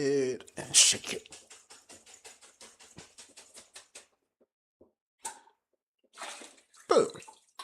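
A lidded plastic container holding a little water and a splash of soap is shaken hard to wash it, giving a rapid run of sloshing, rattling bursts for about three seconds, then a few separate splashes, with a person talking.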